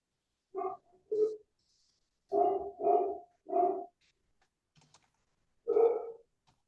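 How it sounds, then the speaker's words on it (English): A dog barks in bursts from a couple of stories up, five separate barks, two then three then one, loud against a quiet room with faint clicks in between. "he barks so loud"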